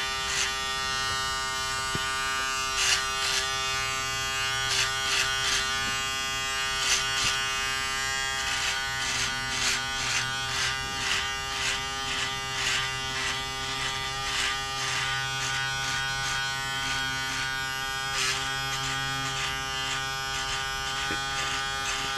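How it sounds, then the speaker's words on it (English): An electric shaver buzzes steadily through a shave, a close, continuous motor hum with small fluctuations as the head moves, and a few faint voices murmur underneath. "Let me shave a little."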